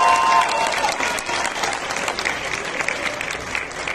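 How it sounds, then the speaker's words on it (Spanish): A crowd at a political campaign rally in Atlixco claps loudly and continuously, the applause fading slightly after a strong start, with faint voices mixed in. "Fuerte aplauso, gracias por acompañarnos"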